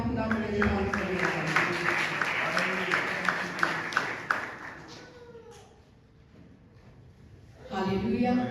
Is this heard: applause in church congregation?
yes